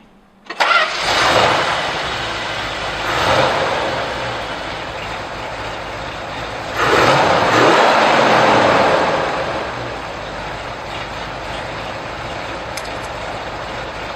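A Dodge Challenger with a 426 engine cranks and fires up, then revs loudly in two long surges before settling into a steady, rumbling idle close by, with no talking.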